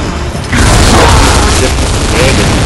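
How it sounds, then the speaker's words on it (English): Loud, sustained gunfire from a weapon in the Gears of War 2 video game, a dense booming roar that swells after a brief quieter start and continues without a break. "the recoil on this gun is a lot stronger than I remember"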